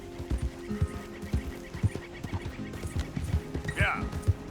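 A horse in Red Dead Redemption 2 whinnies and snorts close up, with hooves clopping in an uneven rhythm and a brief higher neigh near the end.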